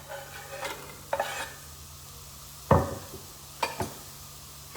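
Onions dry sautéing without oil in a hot pan give a few separate stirring scrapes and brief sizzling bursts, each short and close, with quiet gaps between them.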